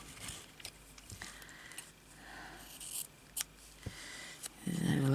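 Scissors snipping fiber art ephemera, yarn and fabric pieces for a journal: a few sharp, close clicks and snips scattered amid quiet handling rustle, with a brief burst of noise at the end.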